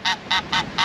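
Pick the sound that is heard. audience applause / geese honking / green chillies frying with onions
geese honking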